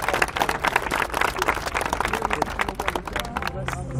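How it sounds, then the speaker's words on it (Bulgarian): An audience at a rally award ceremony claps loudly for the fastest finishers, with a few individual sharp claps standing out over crowd chatter and talking. "Силни аплодисменти за най-бързите"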